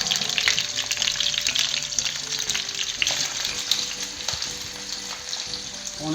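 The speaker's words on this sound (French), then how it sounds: "Le but là, c'est de les saisir simplement. Donc là, hop, on va les laisser un petit peu dorer." Mini stuffed Christmas chickens sear in a hot pan, giving a loud, steady, close sizzle of frying fat with faint crackles and a few light stirring taps, with no talk.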